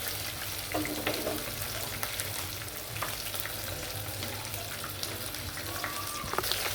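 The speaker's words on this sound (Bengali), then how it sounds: "সিপি স্টাইলে মুরগি ভাজা।" Chicken pieces coated in spice and rice flour fry CP-style in hot oil, giving a steady, moderately loud sizzle with occasional faint clinks and scrapes and no talk.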